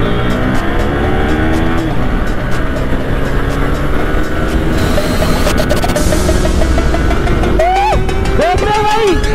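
TVS Apache RTR 200 and Yamaha R15 V3 motorcycles racing on a road, loud close engine drone with rising and falling revs and steady wind rush, one bike's pitch sweeping up sharply near the end.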